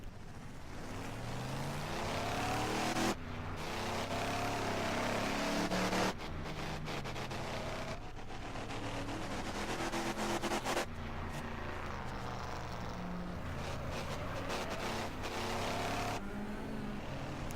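A damaged race car with a bent frame runs a speedway figure 8 race, its engine a loud, continuous close roar with abrupt shifts in pitch and a few sharp breaks, steady throughout with no talk.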